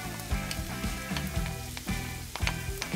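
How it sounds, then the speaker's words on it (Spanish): Chopped onion and tomato sautéing in a little oil, cooking for croquettes and empanadas: a steady close sizzle with repeated scraping, stirring knocks throughout. "Vamos a colocar un poquito de aceite y vamos a sofreír la cebolla y el tomate"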